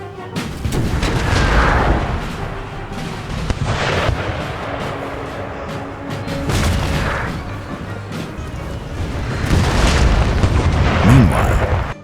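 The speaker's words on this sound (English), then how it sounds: "Lefol's men came under devastating cannon fire from the ridge and were forced to fall back to the hamlet." Heavy cannon fire at the Battle of Ligny: repeated deep booms rolling one after another over a rumbling battlefield din, loud and dense throughout with no speech.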